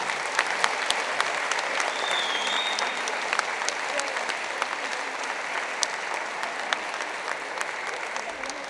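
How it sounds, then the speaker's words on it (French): A crowd at the closing ceremony of a French youth championship in Aix-les-Bains gives sustained applause, an even wash of clapping that holds steady for several seconds. "je vous demande vraiment d'applaudir la ville"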